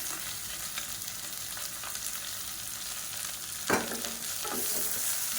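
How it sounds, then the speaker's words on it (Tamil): Sliced onions sizzle steadily in a hot pan for chicken kuruma, a constant bright crackle with an occasional clink and scrape as they are stirred. "இது எல்லாமே நல்லா பொரிய ஆரம்பிக்குது"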